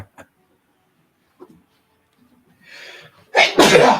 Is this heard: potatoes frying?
no